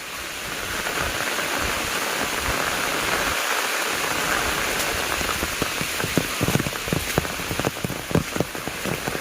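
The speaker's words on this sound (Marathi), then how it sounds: "पाऊस आला ना" Steady rain pours down, a dense hiss with heavier drops spattering on a nearby surface toward the end.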